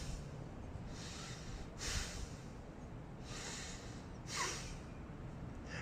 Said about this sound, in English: this would be considered fast exhales, powerful exhales